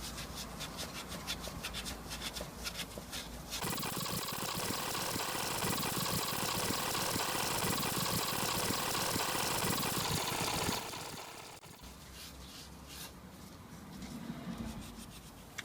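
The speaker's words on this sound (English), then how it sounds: "I've been attacking at it with a wire wool for about 10 minutes now" Wire wool rasps back and forth against metal in a car engine bay, a steady close scrubbing that runs for several seconds before dying away into quieter scratching and rustling.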